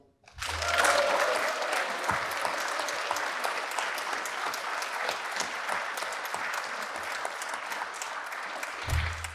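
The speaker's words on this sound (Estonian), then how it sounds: "Teeme selle üle väga kõva aplausi." Loud, sustained applause from an audience at a large community gathering at a manor, bursting in after a brief pause and holding steady as dense clapping for about nine seconds.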